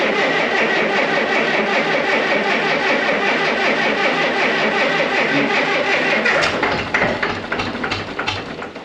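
A Massey Ferguson 587 tractor's diesel engine cranks and chugs loudly with a rough rhythmic knock, then falters and grows uneven toward the end.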